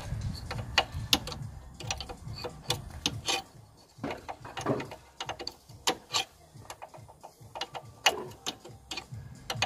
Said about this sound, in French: Et là on dévisse jusqu'à la fin.